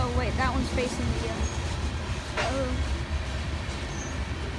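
A Norfolk Southern freight train led by three BNSF locomotives rolls past at Cove, Pennsylvania, a steady loud rumble of cars with brief wheel squeals, while voices are heard nearby.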